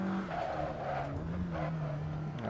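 Tires squeal continuously in a virtual-reality racing game, a steady loud screech with a droning engine underneath throughout the short stretch.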